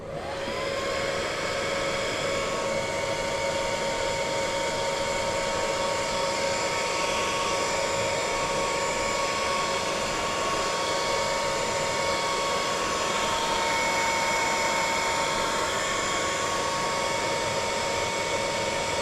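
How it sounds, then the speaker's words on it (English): A hair dryer blows steadily and loudly on a freshly painted motorcycle nosecone, a constant whooshing roar with a high motor whine and no pauses. "A little hair dryer out."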